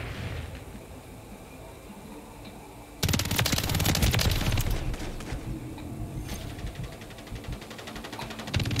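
Video-game gunfire comes through, low at first, then a dense rapid burst of automatic shots that fades into continued clattering fire and mechanical noise, with a voice faintly underneath.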